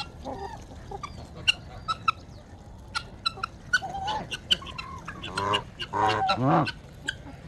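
Guinea fowl call at close range in a farmyard with harsh, rapid squawks and chattering cries, building into a loud burst near the end. A dog barks and other noises mix in.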